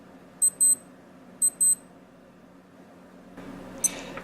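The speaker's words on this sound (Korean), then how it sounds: "알람은 10초간 알림음을 울려줍니다." Close, thin electronic double beeps from a Casio G-Shock GBD-800 watch alarm, two quick pairs about a second apart. The alarm then stops and a soft rustling and handling noise follows.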